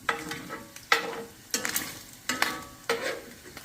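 Chili in a pot is stirred while it cooks, giving a soft ongoing sizzle broken by several sharp scraping strokes and small pops at irregular intervals, close and with no talking.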